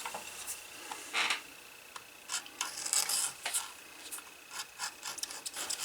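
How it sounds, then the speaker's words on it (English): An edge beveler shaves the edges of leather closure strap pieces for a 1936-style Luger holster, making short, irregular scraping strokes, close and fairly faint, repeated in quick succession. "Most of these are rounded, so I'm just going to bevel them."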